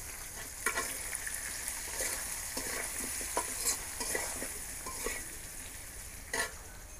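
Potatoes fry in a pan with turmeric, chili, salt and ginger-cumin paste, a soft steady sizzle broken by repeated scraping clicks of a spatula stirring them, with no voices.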